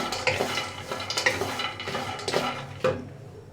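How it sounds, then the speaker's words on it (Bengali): Peanuts dry-roasting in a pan over medium heat are stirred with a utensil, giving a few scraping, rattling strokes with light clinks against the pan, heard close and alone with no talk. "এই অর্ধেকও আমি নেড়ে চেড়ে ভেজে নিব একদম মিডিয়াম হিটে রেখে"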